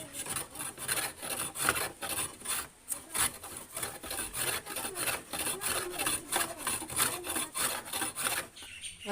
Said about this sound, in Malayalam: ഇവിടെ ഇങ്ങനെ പൊഴി വെട്ടണം.